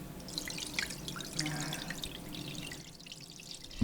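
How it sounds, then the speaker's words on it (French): Liquid soap scented with patchouli runs from a tank's tap into soap moulds, a close, continuous trickle with dripping and splashy pouring, then a short thump at the end. "Et puis, il n'y a plus qu'à ouvrir le robinet et on remplit nos moules."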